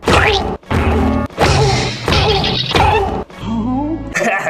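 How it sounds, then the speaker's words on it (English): A cartoon-style smash effect of a croquet mallet striking: a run of loud, punchy whacks and crashes in quick bursts with short gaps, carrying ringing tonal overtones. "Just add a cartoon sound effect to make it complete."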